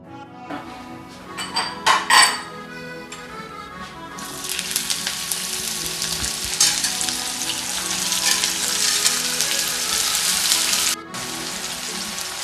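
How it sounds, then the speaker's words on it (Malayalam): Sliced onions frying in oil in a cheenachatti, sizzling loudly and steadily, starting with a few stirring clatters before a bright, continuous hiss takes over. "സവോള ഫ്രൈ ചെയ്യാനിട്ടിട്ടുണ്ട്."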